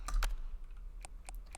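Keys clack on a 60 percent computer keyboard, a few sharp, close strokes in an uneven typing rhythm over a quiet room, with no talking.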